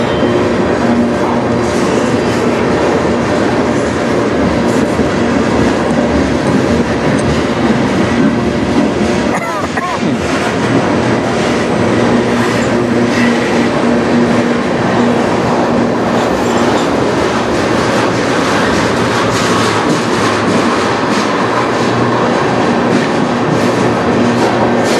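A CN freight train rumbles past on the Strathroy Subdivision, loud and close, with a steady roar of wagons and rhythmic wheel clatter lasting throughout, and a brief squeal partway through.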